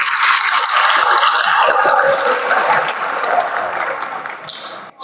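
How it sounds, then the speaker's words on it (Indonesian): A school audience applauds steadily for Indonesia during a Ramadan lecture at SMA Taruna Nusantara Malang, a dense, sustained clatter of many hands that carries on at even strength for about five seconds before stopping abruptly. "Tepuk tangan untuk Indonesia."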